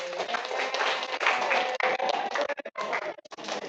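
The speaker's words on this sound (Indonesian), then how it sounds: "Tepuk tangan dulu ya." Audience clapping rises and falls in uneven bursts, dense at first, then thinning into scattered claps before a final flurry.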